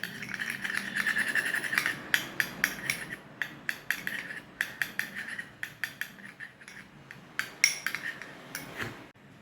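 Butter and a quarter teaspoon of vitamin E oil mixed in a bowl with a utensil, giving repeated close scraping and clinking strokes in an irregular rhythm, with no talk.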